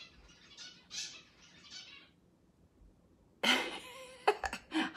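A tiny pet finch gives a few short high chirps and squawks, first faint then louder and sharper toward the end, in an otherwise quiet room.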